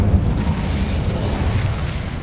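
Incendio fire spell cast in the Hogwarts Legacy game: a loud, dense whooshing burst of flame that stays full and rumbling for about two seconds, with no talking.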